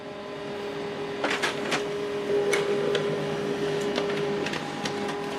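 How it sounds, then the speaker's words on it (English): HP LaserJet printer printing a document sent from a phone, a steady mechanical whir with a sustained tone and clicking, rustling paper-feed bursts, close and alone. "this is the document we printed out from the phone"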